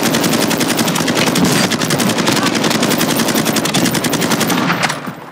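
Sustained rapid automatic gunfire in the video game Warzone 2.0, a loud, dense stream of rounds running almost unbroken for about five seconds before tapering off at the end.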